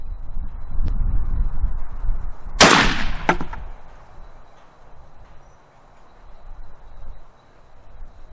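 A single sharp crack from a Savage Model 110 bolt-action rifle in .243 firing Power Max ammunition at an outdoor range, loud and close, followed by a brief echo and then quiet outdoor ambience.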